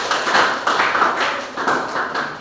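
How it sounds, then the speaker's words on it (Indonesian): A short burst of classroom applause, several students clapping together up close in uneven waves. "Kalian tepuk tangan untuk Rasti."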